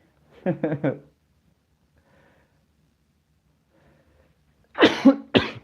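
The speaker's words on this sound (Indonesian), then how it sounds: "Batuk" A short burst of three quick coughs, then quiet, then two more sharp coughs close to the listener.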